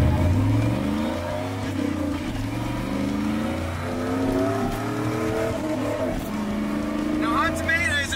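A lowered pickup truck with a 5.3 LS V8 and a 5-speed manual revs and pulls with a loud, close engine roar that rises and falls in pitch. A voice talks over the engine throughout.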